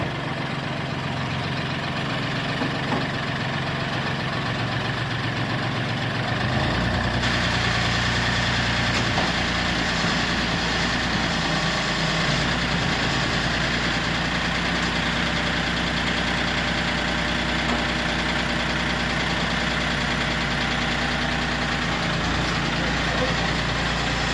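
An old Ford OBS 4WD truck with a 4.9 engine, found sitting in a barn, idles steadily after its glow plugs warm up; a loud, continuous low rumble holds throughout, with a brief shift early on and no talk over it.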